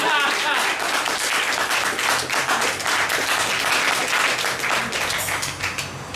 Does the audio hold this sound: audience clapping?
yes